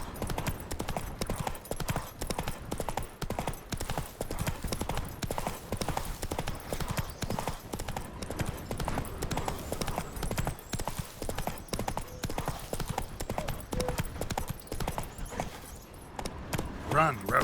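Roach the horse galloping in The Witcher 3: Wild Hunt, a steady rapid clip-clop of hooves running throughout, loud and continuous, with game voices and ambient music layered over the hoofbeats.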